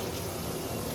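A steady rush of cold water runs from a tap, constant and close, with no voices.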